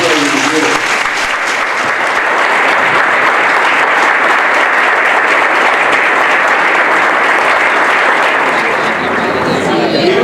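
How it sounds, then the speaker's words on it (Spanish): A crowd at a book presentation gives loud, sustained applause for three authors, a thick wall of clapping that holds steady throughout with voices mixed in underneath. "les pido un fuerte aplauso de nuevo para Gonzalo, Edgardo y Diego"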